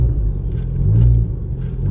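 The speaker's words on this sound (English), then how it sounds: "it's idling at about 1050 on cold start" A VW Golf engine idles on a cold start with a steady, close, deep rumble that stays low and even, with only slight swells in level and no voices.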